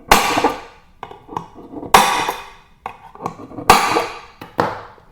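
A center punch strikes iron, giving several sharp metallic taps and clicks, some ringing briefly, at irregular spacing, close and loud with no talking.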